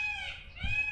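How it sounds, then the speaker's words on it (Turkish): A brief, harsh, nasal peacock call rings out nearby at a wildlife park in Izmir, a wailing cry with a strained, honking edge. "O tavus kuşu sesi."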